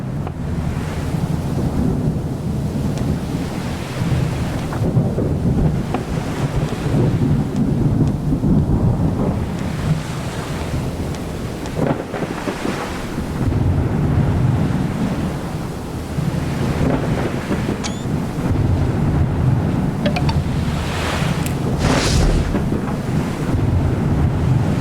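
Ocean waves surge and wind roars steadily while sailing in the Sail the Seas video game, a loud and continuous rush of surf with gusting wind and low rumbles, no talking.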